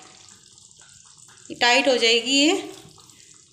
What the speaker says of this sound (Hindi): तो इसमें हमने थोड़ा पानी और डाल दिया है।